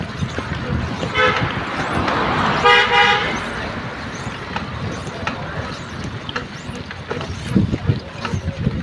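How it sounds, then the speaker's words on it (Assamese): A car horn toots twice from behind a cyclist on a road, two short bright honks over steady traffic and wind rumble, with scattered faint road noise afterward. "আৰু পিছফালে গাড়ীও আহি আছে, পেপ পেপ মাৰি আছে হৰ্ণটো"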